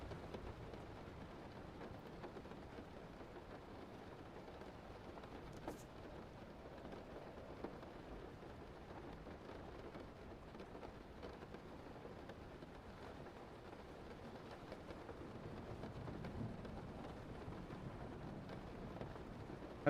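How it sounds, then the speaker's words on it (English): Steady rain falling outside, a faint, continuous hiss and patter heard from indoors, with a soft low rumble that may be distant thunder near the end. "Oh, it's raining outside."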